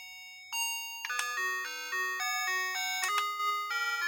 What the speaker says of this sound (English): Oh, standard doorbell.